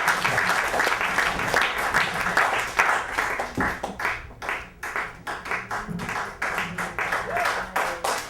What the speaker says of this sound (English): give a round of applause for Mike Brody